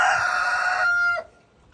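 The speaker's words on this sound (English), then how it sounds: "And you can hear the rooster." A farm rooster crows once nearby, a loud drawn-out call that holds for about a second before breaking off into quiet background.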